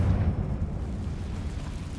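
A Confringo fire spell explodes in Hogwarts Legacy with a deep, rolling boom that stays loud and rumbling for about two seconds, heavy in the low end and without any speech.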